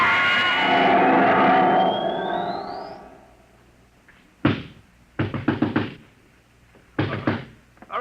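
Heavy pounding on a door in an old radio drama, heard as loud thuds and clusters of rapid knocks after a fading electronic whine, echoing and close.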